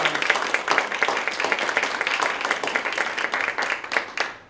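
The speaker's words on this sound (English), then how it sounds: "So if you could give me a big round of applause." A room full of people claps steadily, the applause dense and close, with individual hand claps audible, fading slightly at the end.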